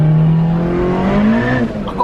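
A station wagon pulls hard in third gear with its tires squealing. The engine drones loud and close from inside the car, its pitch climbing steadily as it accelerates and easing off at the end.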